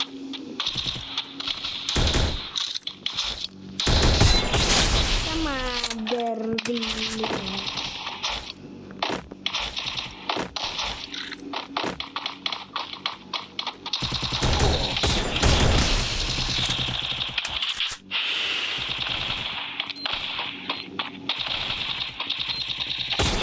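Woodpecker rifle shots fired in a video game, rapid bursts of sharp gunfire mixed with other loud game effects and clatter throughout, dense and close.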